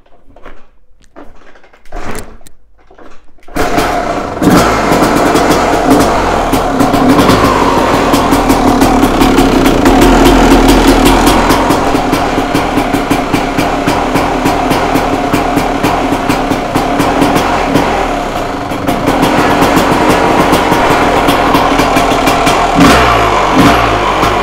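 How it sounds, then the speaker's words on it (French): After a few brief clanks and a short silence, a restored Honda CR250 two-stroke motorcycle engine fires up and runs loud and close, a buzzy, raspy idle with repeated blips of revving that continues steadily for about twenty seconds. "si je vous vends un moteur restauré qui démarre parfaitement, il faut que je vous le prouve."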